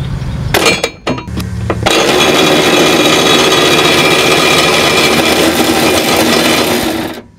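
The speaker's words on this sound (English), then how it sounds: "we're gonna get our extension, our wobble, and our 15, and we're gonna drop this first one." A socket wrench on an extension and wobble joint works a 15 mm bolt loose on a 1999 Saturn SL2 during a fuel pump replacement, a few sharp knocks followed by steady, loud, close ratcheting that stops abruptly at the end.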